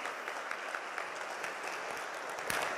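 An audience at a live storytelling event in Pittsburgh claps in steady, dense applause that holds at an even level throughout, with no voices standing out.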